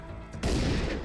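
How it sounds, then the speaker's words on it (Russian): A shotgun blast in the zombie survival video game Dead Age 2, one loud, sudden burst that booms and lingers with a heavy, spreading report for most of a second. "давай тогда мы, может быть, все-таки выстрелим из дробовика"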